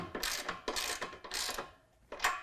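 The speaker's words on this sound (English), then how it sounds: "we're just going to tighten up our 3 flange nuts" Ratchet clicking in several short bursts while tightening three flange nuts on a step bracket of a 2019 Ram 1500 during an N-Fab Epyx step install, close and moderately loud with a brief pause before the final burst.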